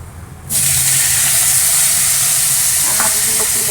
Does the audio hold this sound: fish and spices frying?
yes